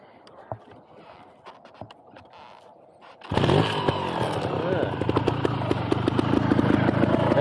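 A Beta trials motorcycle engine fires up after a few seconds of quiet outdoor ambience with faint knocks, then runs loud and close with a rough, rapid revving buzz that swells toward the end.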